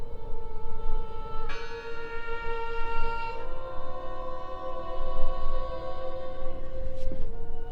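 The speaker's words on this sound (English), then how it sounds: "I heard the bell!" Bell tolling in the video game Draugen, a sustained ringing tone with strong overtones that fades slowly, under a loud steady rumble, with a second fainter strike near the end.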